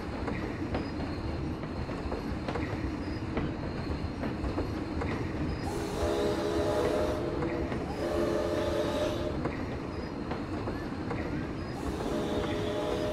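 A train rolls along in Planet Coaster in a Cedar Fair theme park, a steady loud rumble with clicking wheel beats, joined partway through by bright squealing tones that come and go.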